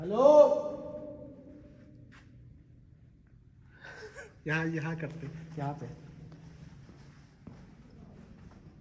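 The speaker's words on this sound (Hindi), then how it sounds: "पूरे टनल में आवाज गूंज रही है।" A man calls out a few short phrases in a tunnel in Taiwan, and each one rings on in a hollow, lingering echo.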